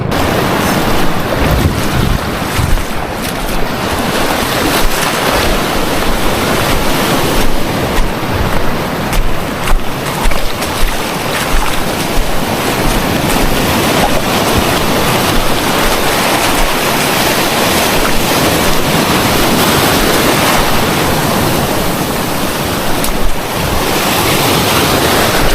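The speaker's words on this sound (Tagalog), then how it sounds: "Alon dun sa kabila, grabe." Ocean surf crashes continuously along a shoreline while strong gusts of wind buffet the microphone, giving a loud, steady roar with no speech.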